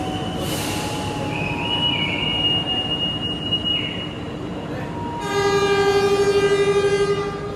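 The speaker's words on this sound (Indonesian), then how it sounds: "Itu ada kereta masuk, kereta apa ya?" A train pulls into Cikampek station with screeching, squealing wheels on the rails, a short horn toot and rumbling carriages, heard fairly close with faint background voices.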